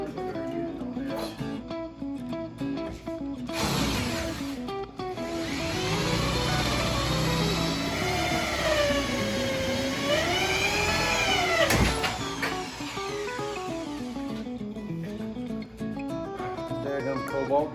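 A power drill with a 3/8 cobalt bit whirs steadily. Its motor pitch rises and dips as the bit bites into metal, then the drill stops and starts again.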